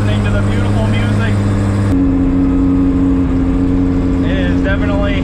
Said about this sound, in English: This car sounds completely different.